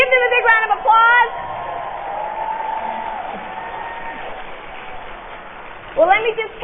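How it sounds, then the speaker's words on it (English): An audience at a 2005 leadership conference breaks into steady applause and cheering, with a voice speaking just before the sound swells and again as it dies down. "Give them a big round of applause."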